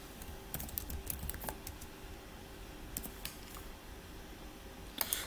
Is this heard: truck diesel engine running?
no